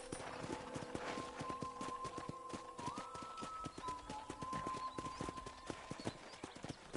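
Horse hooves clip-clop steadily while riding in the Western video game Red Dead Redemption, a continuous rhythmic trot at close range with a faint whistle-like tone over ambient background and no talking.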